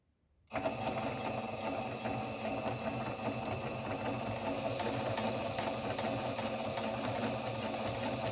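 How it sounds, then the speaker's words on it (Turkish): A Singer Brilliance 6160 sewing machine stitches a buttonhole with a steady, fast mechanical whirr and needle chatter that starts abruptly after a brief silence and runs continuously and close. "Şimdi makinamızın ayağına kuvvet uygulayıp çalıştırmaya başlıyoruz."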